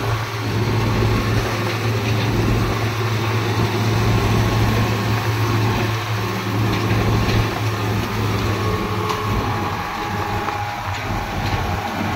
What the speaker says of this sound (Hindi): कर दिया ट्रैक्टर स्टार्ट।